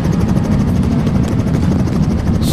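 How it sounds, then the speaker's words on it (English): A helicopter in the video game Bonelab gives a loud, continuous rotor roar and engine drone that fills the whole stretch, steady and close, with no talk over it. "What's that helicopter?"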